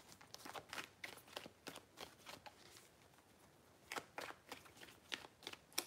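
Tarot cards are shuffled close and quietly, a series of soft riffling and slapping bursts in two clusters with a short pause between them.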